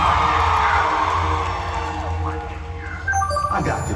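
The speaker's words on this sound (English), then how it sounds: "Follow the noise of the crowd." A large crowd at a live gospel concert in Chicago cheers, whoops and yells, a loud, dense roar that dips slightly midway and surges again near the end.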